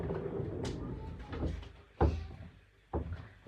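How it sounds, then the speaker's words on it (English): A room door is pushed shut, with a couple of dull thuds and knocks landing close and fairly loud among light shuffling handling noise. "I'm just going to close the door"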